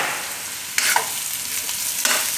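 Thecha masala is stirred into potatoes frying in oil, giving a soft steady sizzle broken by a few scraping stirs of the spoon through the pan.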